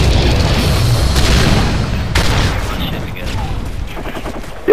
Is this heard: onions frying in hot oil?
no